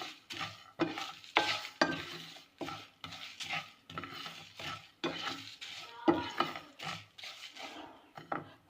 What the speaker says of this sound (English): I'm going to add these bay leaves and the cinnamon stick into this, and you have to fry